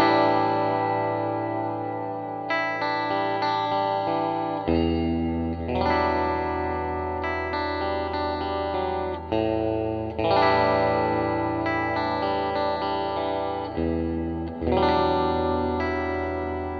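Electric guitar run through a TC Electronic Hall of Fame pedal on a hall reverb setting, sustained chords and notes ringing into very long, smooth reverb tails with some modulation and grit, played alone.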